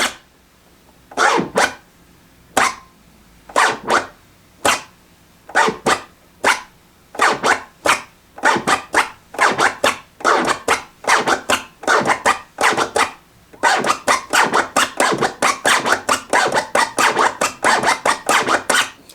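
DJ turntable boomerang scratching with forward and reverse slice and dice strokes: rapid, rhythmic zipping scratches, sparse at first and then dense, loud and close with no talking.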